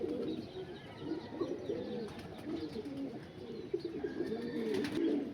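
Pigeons coo in low, rolling phrases, repeating steadily and close by, with faint chirps and light background noise.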